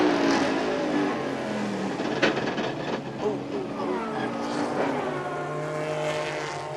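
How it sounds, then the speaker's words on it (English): A race car with straight-cut gears drives past in a Grand-Am race with a loud engine roar and a mechanical whine, gears rattling as it slows under braking, fairly close and continuous. "You could hear all those straight cut gears rattling away there when he put the brakes on."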